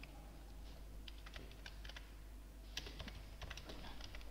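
A computer keyboard clicks quietly as a name is typed in, with irregular bursts of keystrokes over a low, steady background hum.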